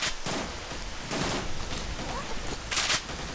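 Gunfire from a gun in the shooter S.T.A.L.K.E.R.: Shadow of Chernobyl, fired in several sharp bursts that mow down enemies, with loud cracks at a steady pace and a brighter volley near the end.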